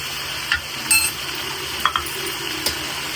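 Mushrooms and tomatoes softening in a pan for mushroom biryani, a low steady sizzle with a few sharp clinks and stirring knocks, close by.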